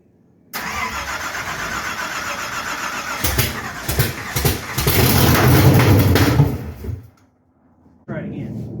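A '55 Chevy gasser with a Hilborn-injected engine cranks and catches on a cold start, a loud rough close burst of combustion that builds, then cuts off abruptly into near silence before noise returns, with voices around it.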